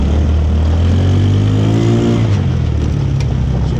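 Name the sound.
off-road buggy engine revving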